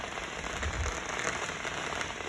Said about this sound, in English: Oh my gosh. They're doing fireworks.